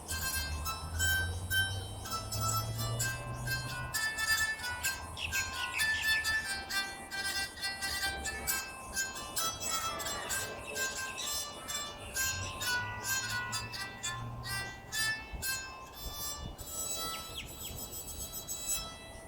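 An antique ukelin, a bowed zither strung with violin strings, plays a sweet, sustained melody with gliding notes, steady and fairly close, with no voices.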